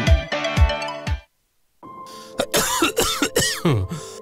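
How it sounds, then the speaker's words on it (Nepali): A man coughs several times in quick, harsh bursts close by, then a short silence follows, then more coughing and throat sounds. "खोक्न फेरि सुरु भयो है?"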